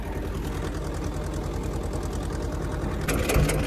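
A tractor pulling a rotavator through a field, its engine running with a steady rhythmic chug and mechanical clatter, close and continuous, with a brief burst of higher rattling near the end.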